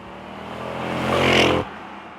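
A manual-swapped 2004 Jaguar XKR drives past, its engine note building into a loud, steady roar that swells and then cuts off abruptly.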